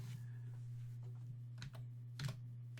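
Someone types on a computer keyboard, producing a few quiet, sparse key clicks against a soft steady hum.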